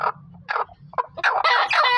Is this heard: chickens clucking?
yes